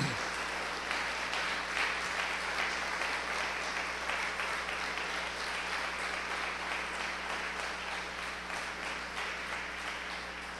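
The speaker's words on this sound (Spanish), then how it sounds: "Le dan un aplauso al Señor." A church congregation applauds during a Spanish-language worship service, a dense sustained wash of many hands clapping that holds steady for about ten seconds and eases slightly toward the end.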